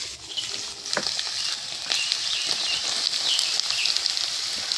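Finely chopped onions sizzle in hot oil for a chicken bhuna, a dense, continuous crackling hiss with faint spoon knocks, close and fairly loud, no talking.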